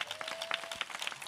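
Faint clapping from a congregation during a Christmas church service, with scattered claps that keep going through a short moment, heard from a distance.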